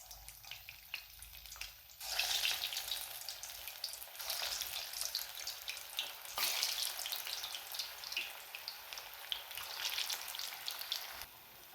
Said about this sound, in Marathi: आता याला आपण थोडंसं असं पलटूयात मीडियम गॅसवरती आपल्याला तळून घ्यायचं आहे